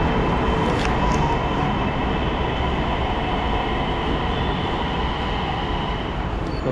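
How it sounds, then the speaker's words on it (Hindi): A Delhi metro train arriving at a station, a loud continuous rumble and roar of the rail cars close by that fills the whole stretch with no pause. "तो भाई फाइनली अपनी मेट्रो आ चुकी है, चलते मेट्रो में।"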